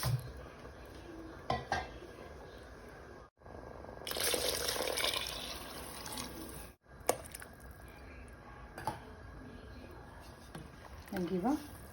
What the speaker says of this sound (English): Now it's time to add water into this.